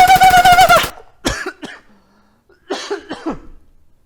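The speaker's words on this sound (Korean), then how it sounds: "성대 쪼여서 기침났어" Several dry coughs in two clusters, close and fairly loud, following a brief stretch of sung or tonal voice, with quiet gaps between the bursts.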